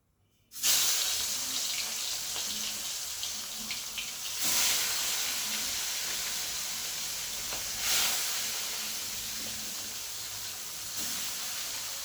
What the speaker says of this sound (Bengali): এবার তেলের মধ্যে আমি দিয়ে দিচ্ছি মাছগুলো।